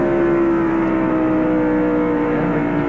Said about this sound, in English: You can hear him hit the brakes just a little bit there as he backs off, decelerates into the turn.